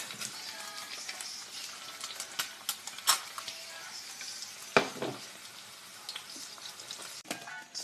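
Eggs sizzling and frying in a pan at breakfast, a steady crackling hiss with scattered sharper pops and small utensil taps, fairly close and moderately quiet, no talking.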